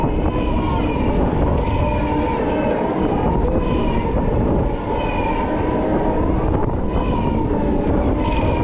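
The Air Race roller coaster at Emerald Park in Ireland roars continuously through its run, a loud sustained whooshing drone with a rising and falling airplane-like whine, recorded on board without talk.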